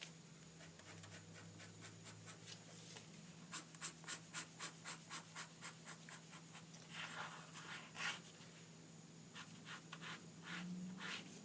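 A pen scratches squiggly lines on paper to draw bushes, a faint close run of quick rhythmic strokes that speed up into repeated scribbles across the stretch.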